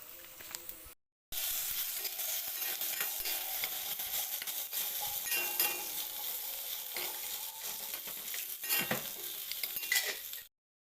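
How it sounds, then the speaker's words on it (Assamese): Chicken meat fries in a pan with a continuous loud sizzle and crackle, broken by occasional utensil stirring and clinks against the pan, with a short gap near the start. "এতিয়া মাংসখিনি পূৰা ফ্ৰাই কৰি ল'লোঁ মই"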